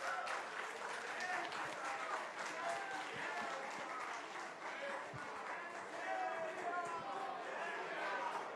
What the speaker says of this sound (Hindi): इतनी ताली और ऐसा स्वागत